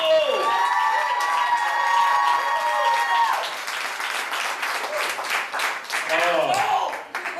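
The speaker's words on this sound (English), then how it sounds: "My adopted son, Dave Sheets, make a little bit of noise, people" A large comedy roast crowd applauds and cheers loudly, with whoops and shouts over steady clapping that swells and continues throughout.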